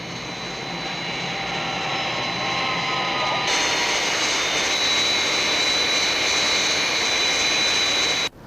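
Skythrust jet aircraft in flight just after takeoff, a loud sustained roaring jet whine with high tonal components that sharpens and brightens midway, then cuts off abruptly at the end.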